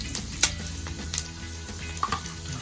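Garlic sizzles and fries steadily in hot oil with the onions in a pan for chicken adobo, with a few stirring clinks and scrapes over the constant crackle.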